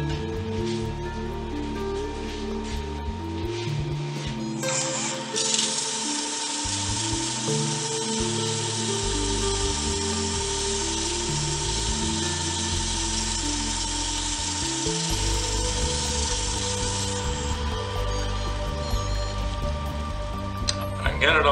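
Sandpaper worked through fine grits, around 400 to 600, against a spinning turned wood coaster on a woodturning lathe gives a steady, continuous hiss over a low motor hum, loud and close for the whole stretch, with no talking.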